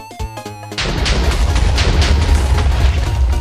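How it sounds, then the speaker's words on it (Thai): A lucky block explodes in Minecraft with one loud, sudden boom, followed by a sustained rumbling crackle of debris. A few faint clicks come just before it. "นี่ไงระเบิดจริงๆด้วย"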